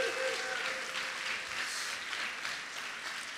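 A live podcast audience applauds steadily, a dense wash of clapping hands held at a moderate level throughout, with no voices standing out.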